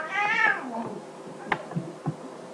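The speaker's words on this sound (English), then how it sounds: "our cats are attacking each other again, I guess" House cats attacking each other: a loud, drawn-out meow with rising and falling pitch opens, followed by a few soft thumps and brief scuffling noises, with no talking.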